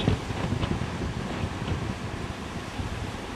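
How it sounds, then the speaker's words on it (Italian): Strong wind and storm surf hit the Gizzeria Lido coast of Calabria in January, with a continuous roar of wind buffeting the microphone over rumbling breaking waves and no voices. "Mi spinge anche il vento la telecamera, figurati. Ma onde incredibili, guardate dove sono queste onde."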